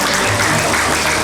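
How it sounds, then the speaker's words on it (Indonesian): A crowd at a government launch event for a community nutrition centre breaks into loud, dense applause, a continuous close wash of clapping throughout. "Tepuk tangan dulu semuanya."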